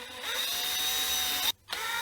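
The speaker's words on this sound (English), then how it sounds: "now we're just gonna drill these holes here." A power drill bores holes into a guitar body, a close, steady high whine that runs continuously, cuts out briefly near the end, then spins up again, with no talking.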